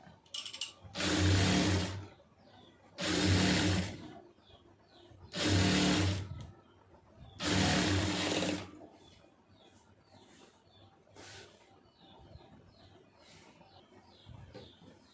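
A sewing machine stitching blouse fabric runs in four bursts of about two seconds each, loud and close, with quiet pauses between them and faint clicks and rustling afterward.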